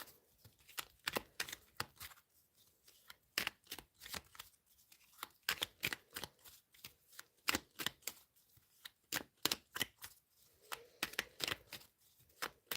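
Tarot cards drawn and shuffled from a deck make quiet, close, irregular flicks and snaps in bursts, with short pauses between clusters.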